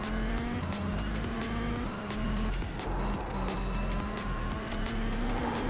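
Race car engine in an endurance sim racing game, a loud steady drone with shifting pitch and occasional tire squeal, continuous and close throughout.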